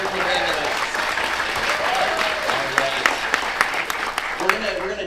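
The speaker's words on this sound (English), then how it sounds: "Give another round of applause for our wonderful panelists." A convention panel audience applauds steadily for the panelists, a dense wash of clapping with a few louder claps standing out, while voices talk over it.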